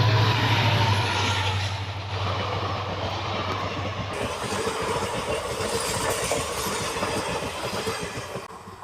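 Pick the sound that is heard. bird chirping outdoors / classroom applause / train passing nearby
train passing nearby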